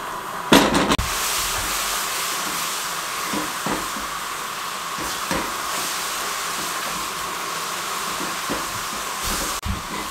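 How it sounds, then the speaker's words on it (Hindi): Tamarind chutney simmers in a pan over a medium flame, giving a steady close hiss broken by scattered soft pops and crackles. "इसको इस तरीके से घुमा दें और इसको पकने दें"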